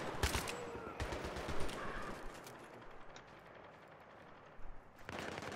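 Battlefield 3 gunfire crackles in rapid bursts, with quick automatic volleys at the start and again near the end and a quieter stretch between, heard faint and distant.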